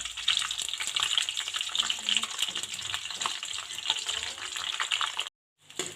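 Sliced onions hitting very hot ghee in a kadai, a loud, dense hiss and crackle that runs steadily, then cuts out abruptly near the end before resuming faintly.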